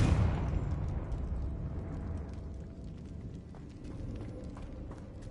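A fiery Confringo spell explosion in Hogwarts Legacy lands as one loud blast at the start, then fades into a long, rumbling roar with faint crackles trailing behind.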